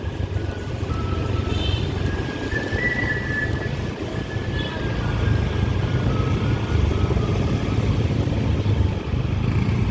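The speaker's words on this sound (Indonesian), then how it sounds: "Full macet ini kiri kanan." A bumper-to-bumper Lebaran holiday traffic jam of cars and motorcycles on the road from Padang toward Mandeh island, heard as a loud, continuous engine rumble with brief higher tones drifting over it.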